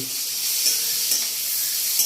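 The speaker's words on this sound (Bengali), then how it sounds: "পেঁয়াজ আলু ভাজা হয়ে গেছে এখন হলুদ দেওয়া হচ্ছে" Onion and potato frying in a pan as turmeric is added, giving a loud, continuous sizzle with a few soft stirring scrapes and no voices.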